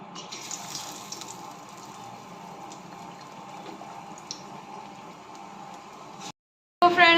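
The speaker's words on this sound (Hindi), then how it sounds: "यहाँ पानी है, इसे डाल के अभी मिला लेती हूँ।" Water pours steadily into gram flour batter seasoned with garlic, turmeric, salt and cumin for pakoras, a continuous trickling splash that stops abruptly near the end.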